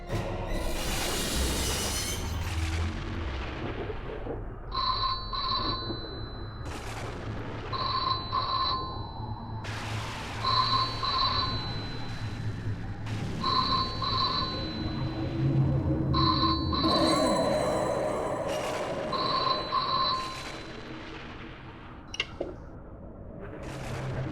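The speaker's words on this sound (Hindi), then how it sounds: "लगता है फोन की घंटी बज रही है" An old-style telephone bell rings late at night in a spooky house setting in a horror TV serial: about nine bright double rings repeat at an even rhythm, fairly loud, over a low eerie drone.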